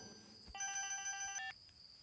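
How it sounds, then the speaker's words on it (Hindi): A telephone rings once in a short electronic trill, fairly faint against a quiet room background. "फोन बज रहा है।"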